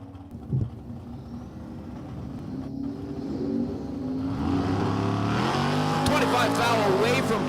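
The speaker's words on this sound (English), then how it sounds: "He's going down track with the street machine." A Camaro street machine accelerates down a drag strip in the right lane, its engine building from a distant rumble to a loud, sustained roar of revving and passing power, while a track announcer talks over it.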